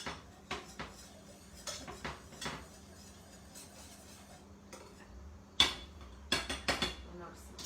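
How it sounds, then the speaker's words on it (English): Collagen whisked into a mixture in a bowl, a series of sharp metallic taps and clinks against the bowl, scattered and irregular over a quiet background, with a cluster of quick strikes toward the end. "breaking that apart, whisking it, getting it well incorporated into this mixture"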